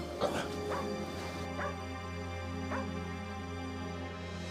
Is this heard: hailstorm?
no